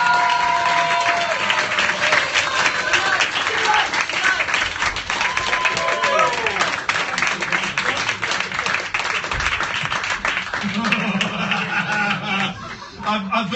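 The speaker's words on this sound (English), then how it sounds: "Round of applause for Dredge." A room audience claps steadily and loudly after a small-stage wheelbarrow-pushing stunt at a live performance event, with scattered chuckles and cheers mixed into the sustained applause.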